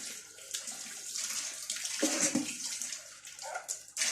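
Tap water runs steadily over aluminum pots and pans being rinsed in a kitchen sink, a continuous broadband splashing that shifts and surges as the cookware moves under the stream, with no voices.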